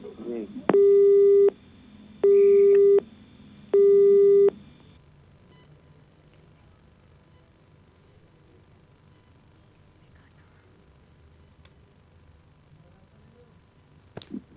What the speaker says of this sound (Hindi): राकेश जी ने फोन कट कर दिया, उनसे फिर से संपर्क साधने की कोशिश हम करेंगे